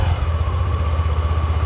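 A 2024 Yamaha NVX 155 ABS scooter with a standard engine and about 16,000 on the clock idles close by, giving a steady low, throbbing putter with a faint higher whine and no voices.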